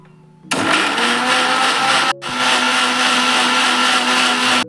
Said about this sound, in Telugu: వాటర్ వేసుకొని మిక్సీ వేసుకోవాలి.